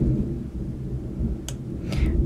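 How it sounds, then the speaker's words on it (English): A low, continuous rumble of distant spring-storm thunder rolls through the whole stretch, with a couple of faint sharp crackles. "I bet you just heard the thunder too."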